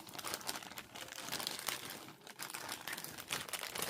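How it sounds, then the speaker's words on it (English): Plastic bag crinkling and rustling as craft and junk journal supplies are pulled out of it, a continuous close, soft crackling with uneven bursts and no talk. "So let's pull everything out of my plastic bag"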